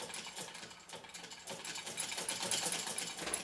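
A PMZ-1A sewing machine from the 1940s-50s runs steadily, its handwheel said to wobble once the drive is engaged, giving a continuous close mechanical whirr and clatter with no talking.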